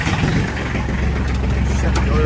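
An Iseki TH4335 compact tractor engine runs at a steady, close, loud idle with a low rumbling throb.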